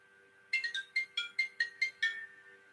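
A phone ringtone chirps in a rapid series of about eight bright electronic pulses, close and fairly loud, with no talk over it.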